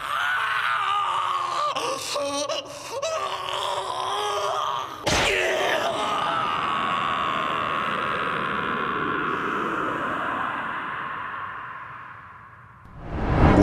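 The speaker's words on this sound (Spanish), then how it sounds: "Los gritos del torturador una vez empalado" An impaled torturer in the 1997 Berserk anime screams and groans: a long, loud, strained wail held for many seconds with a sharp hit partway through, then fading into a ragged gasp.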